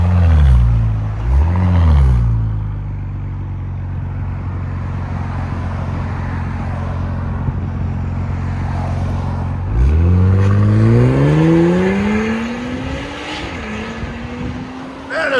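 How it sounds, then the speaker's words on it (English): A straight-piped 2023 Porsche Cayenne S with a 2.9L twin-turbo V6 snarls through a quick rev, then settles into a loud, steady drone. It climbs again in rising pulls, all close and raw, while people talk over it. "This beautiful Porsche Cayenne S twin turbo that we just fully straight piped"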